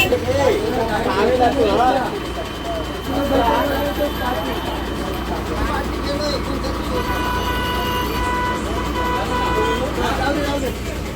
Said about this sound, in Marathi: ट्रॉफिक लागलेली आहे ट्रॉफिक